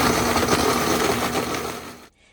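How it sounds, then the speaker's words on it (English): A blender whirs loudly while processing a thick pistachio ice cream mixture, a steady grinding motor drone that runs close for about two seconds before abruptly cutting off. "So I did scrape down the sides of my blender once, and then I mixed it again"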